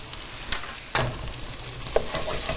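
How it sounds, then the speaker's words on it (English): A teaspoon of vinegar is dumped into a pan on high heat, a steady loud sizzle and hiss that flares sharply as the liquid hits and keeps frying, with a faint clatter near the end. "I'm going to turn this heat up to high, and I'm going to take the teaspoon of vinegar and just dump it in there"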